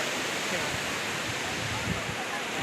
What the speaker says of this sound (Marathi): हे बघ मस्त आहे समुद्र हा कोलवा बीच आहे